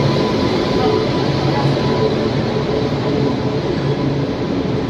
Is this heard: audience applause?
no